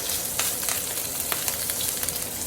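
A steak sears in a pan with butter, thyme and rosemary, making a loud, dense and continuous sizzle with short crackling spurts, close by and with no talk.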